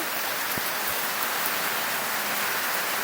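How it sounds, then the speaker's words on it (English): Steady rain pours down in a dense, even hiss, close and continuous, with no talk over it. "I can't stand the rain."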